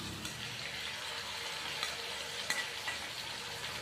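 Beef frying in a pan with tomatoes for kaddu gosht, giving a steady close hiss of sizzling fat and a few light utensil taps over it.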